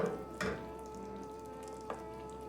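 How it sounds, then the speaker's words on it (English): Stew liquid poured from a can simmers in a pot while being stirred, giving a soft steady sizzle with a steady hum beneath and a couple of brief clinks of the spoon against the pot. "And then I guess we just stir it until the liquid goes away?"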